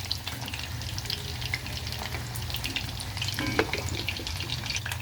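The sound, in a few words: purple yam frying in oil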